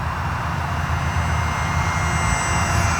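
An Aeroscout RC airplane on its first flight hums with a steady buzzing electric motor. The tone stays constant and fairly close for the whole stretch, with no talk.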